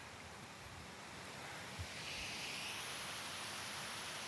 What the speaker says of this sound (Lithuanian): Va, krioklys. Nedidelis, bet gražus.